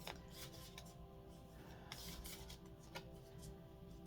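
Quiet, steady riffling and soft card flicks for several seconds, with a few sharper snaps and a faint background hum; no one speaks.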